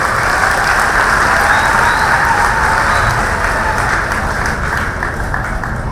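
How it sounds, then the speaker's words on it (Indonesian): A large audience claps steadily at an Indonesian Hanura party anniversary gathering with orphans, a dense, loud applause sustained throughout and slowly thinning toward the end. "tepuk tangan"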